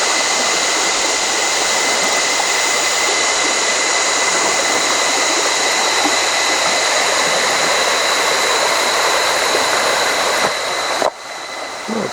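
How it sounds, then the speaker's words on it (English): River water rushes steadily past a weir as a broad, even wash of flowing water, close and continuous, with no voices, ending in a sudden cut near the finish. "the water birds and the sound of the rippling waters"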